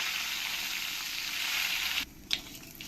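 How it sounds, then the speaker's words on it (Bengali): Nigella seeds, dried red chillies and bay leaves sizzle in hot oil with a loud, even, close crackling hiss that cuts off abruptly, leaving a brief clatter of a utensil afterward. "এবার আমি এই তেলের মধ্যে দিয়ে দেবো হাফ চামচ কালো জিরে আর দিয়ে দেবো দুটো শুকনো লঙ্কা দুটো তেজপাতা"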